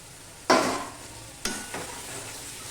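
Fried potatoes tossed into a pan of crab curry spices, a sharp burst of sizzle at the drop followed by two softer stirring scrapes and a continuing low sizzle.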